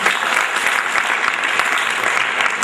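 An audience at a national HR summit breaks into continuous applause, dense and loud clapping that holds steady throughout with no speech over it.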